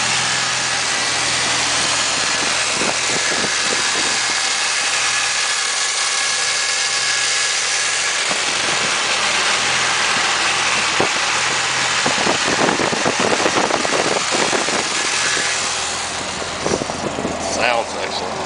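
A restored 1972 Camaro 396 RS SS with a four-speed and factory air conditioning, its engine idling steadily and loudly up close, a continuous rumble with slight roughness that holds throughout.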